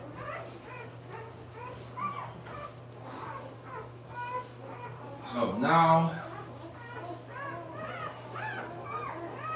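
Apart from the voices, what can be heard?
newborn puppies whimpering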